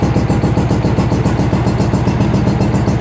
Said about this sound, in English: I do have to wait for the engine to warm up before I start to speed it up